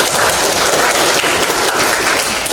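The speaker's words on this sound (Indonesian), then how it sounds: "Tepuk tangan." Audience applause at a morning school coaching session, a steady dense wash of many hands clapping throughout, loud and continuous with no talk.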